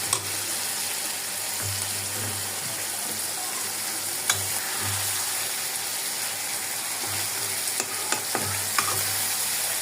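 Fresh tengra fish sautéing in a pan, with a steady broadband sizzle and repeated scraping stirs clattering at irregular intervals, fairly close and with no talking.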